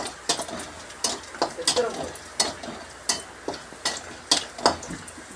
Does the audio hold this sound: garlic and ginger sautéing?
yes